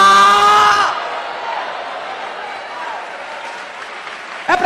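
Audience applause at a Portuguese-language evangelical church service led by a woman missionary, breaking out briefly after her preaching voice, then a sustained broadband patter of many hands clapping that carries on steadily to the end.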